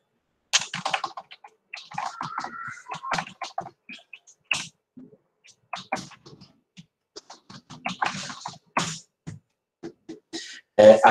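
Keys clatter on a computer keyboard in quick bursts of typing, close and crisp, with short pauses between runs as a username is entered, ending in a sharper burst.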